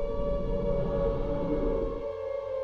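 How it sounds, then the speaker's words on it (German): The eerie wailing siren from the horror video game Silent Hill 2 drones loud and steady on its own, then its low rumble fades out near the end. "Da, das ist wieder dieser Sound, ne, von diesen Sirenen."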